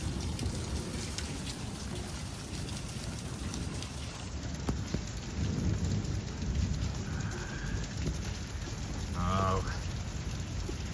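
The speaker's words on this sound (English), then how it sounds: "still raining, and here comes the sun" Steady rain falling outdoors as a thunderstorm front passes at sunset, a dense continuous patter with low rumbles of thunder underneath, and a brief voice exclamation near the end.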